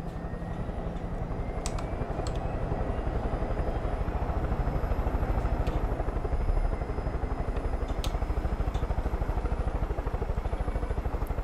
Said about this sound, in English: I'm gonna drive the helicopter.